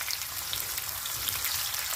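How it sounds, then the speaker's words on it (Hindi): Onion frying in hot oil in a village-style kitchen while making vegetable polao, a steady dense sizzle that crackles continuously and evenly throughout. "मेरी तेल भी अभी गर्म हो गए हैं। अभी मैं इस पे डालूंगी प्याज।"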